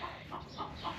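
Chickens cluck in short, soft bursts, several quick calls in a row at a moderate distance.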